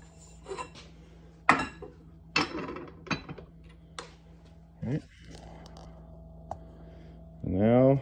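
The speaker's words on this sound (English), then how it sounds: "you're going to take your arbor press and wrench down on it" An arbor press levered down with a cheater bar flattens a 90% silver Kennedy half dollar coin ring, giving sharp metallic clanks and clicks at irregular intervals, with a voice speaking briefly near the end.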